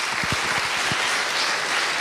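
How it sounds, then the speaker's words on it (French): A conference crowd applauds steadily, dense clapping filling the room at a consistent loudness throughout. "On peut applaudir Franck Lavagna d'Orange, s'il vous plaît."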